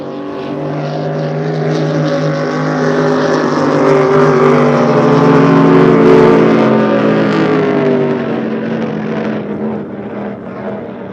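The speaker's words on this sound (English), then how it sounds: "Sounds like they got the K99 boat a little fat on the fuel mixture" A K99 racing boat engine at a Thanksgiving regatta drones loudly with a rich fuel mixture, a steady harmonic roar that swells toward the middle and eases slightly near the end, with no talking.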